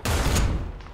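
A burst of gunfire and blasts in a tank video game featuring a Soviet multi-turret heavy tank prototype, loud and dense, with a sharp crack near the start and a fading rumble afterward.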